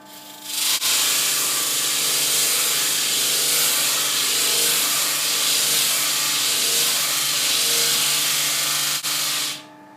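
Loud, steady abrasive whir of a disc sander grinding against wood, starting and stopping sharply, running continuously for several seconds with no talking.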